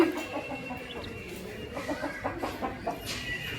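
A rooster kept at home clucks repeatedly, with short, fairly close calls over a quiet outdoor background and no talking.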